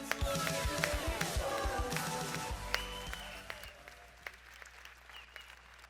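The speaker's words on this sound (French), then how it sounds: "je vous demande d'applaudir le maire de Cavalère, Philippe Léonelli" A New Year's greetings ceremony audience in Cavalaire applauds the mayor, dense clapping that fades away as music plays over it.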